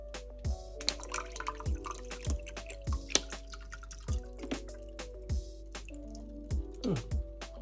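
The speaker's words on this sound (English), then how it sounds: "Let's get some more water in there." Water is poured into a bottle at a gym, with quiet repeated dripping, gurgling splashes and small plastic clicks close by against a low steady hum.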